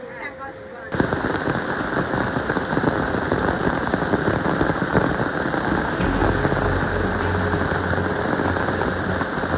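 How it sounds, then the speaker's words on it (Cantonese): Heavy rain pours steadily on a hillside hiking trail at Meiziping in Guangdong, a loud dense hiss of drops hitting surfaces that begins abruptly and continues unbroken, with a low rumble underneath. "咁依家咁大雨，會唔會好難行啊？"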